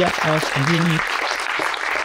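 A conference audience breaks into dense, sustained applause to welcome a speaker, with a voice talking briefly over the start and the clapping continuing throughout at an even, fairly loud level.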